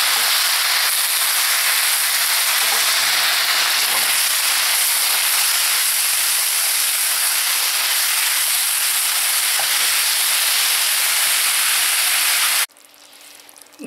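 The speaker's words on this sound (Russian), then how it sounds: "Сначала слегка обжарю грибы, а потом накрою крышкой" Mushrooms fry with sour cream in a pan, giving a loud, steady, broadband sizzle and hiss that runs continuously, then drops sharply near the end as if covered with a lid.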